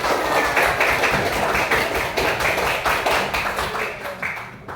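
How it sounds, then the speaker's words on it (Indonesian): A class of students clapping together in a classroom, dense and loud with a rhythmic, almost unified beat, close by and with no voices. "Tepuk tangan untuk kita semua."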